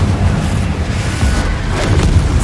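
A Confringo blasting spell goes off in Hogwarts Legacy as a loud, dense booming roar that stays steady for a couple of seconds, close and heavy, with no talk over it.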